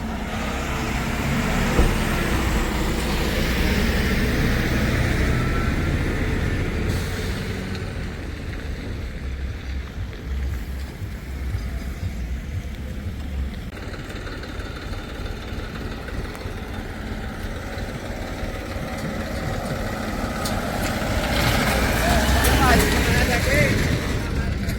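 A truck rolls down a steep off-road slope of about 15 to 20 feet, its low engine rumble droning steadily and swelling louder toward the end.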